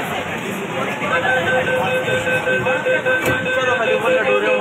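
A metro train runs at Maidan station in Kolkata, giving a steady mechanical rumble with a sustained whine and brief tonal squeals, fairly loud and close, without clear speech.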